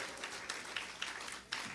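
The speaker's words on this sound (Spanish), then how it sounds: "Se vale aplaudir cada y cuando" A church congregation claps in a faint, scattered patter of applause heard from a distance.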